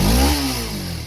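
A Suzuki GSX250R motorcycle exhaust roars close by as the engine revs, then the pitch slides down as the throttle drops back toward idle.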